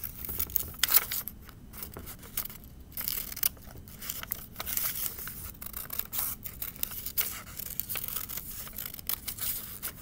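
Scissors cut through paper with steady rustling snips and crinkles for several seconds, moderately loud and close, with no talking.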